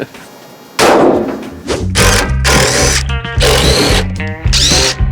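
The window of an older Jeep YJ Wrangler goes down with loud, close mechanical whirring that comes in several repeated bursts, separated by brief pauses.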